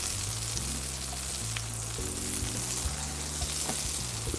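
Butter melts on a hot flat top grill, giving a quiet, steady, even sizzle that carries on throughout with only slight flickers of crackle.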